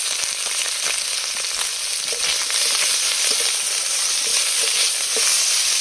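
Fish roe (from a Bengali fish dish) sizzling in a hot frying pan with oil, a steady loud crackle and hiss with scattered sharper pops, close and continuous, no talking.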